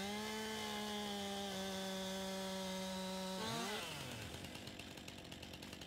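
A chainsaw drones steadily while cutting a tree in Farming Simulator 19, its pitch dropping sharply as the trunk gives way, followed by a crackling, rustling crash as the tree falls.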